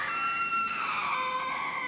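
A child screams in a sustained, high-pitched wail lasting a couple of seconds, loud and close, with no talk over it.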